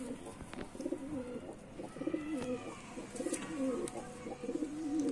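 Lalban ghagra pigeons coo in a steady, repeating pattern of low, throaty calls, with faint chirps and rustling in the background.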